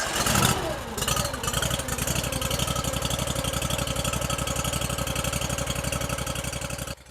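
A small fuel-injected firewood bundler engine running rough, as if starving for fuel, runs close by with a fast, steady, slightly uneven chugging idle, loud throughout, then cuts out abruptly at the end.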